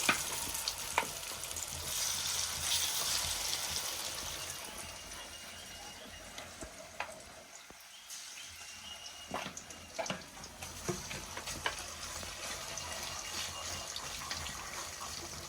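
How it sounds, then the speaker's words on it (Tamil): Steady sizzling of chicken frying in hot oil, with crackles and pops throughout and occasional clinks of stirring, close and fairly loud. "இங்கே சிக்கன் பொரியுது"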